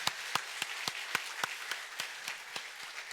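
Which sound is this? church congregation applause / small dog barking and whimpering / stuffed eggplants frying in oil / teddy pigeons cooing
church congregation applause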